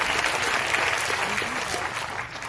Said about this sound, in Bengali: একটা জোরে হাততালি এই প্ল্যানটার জন্য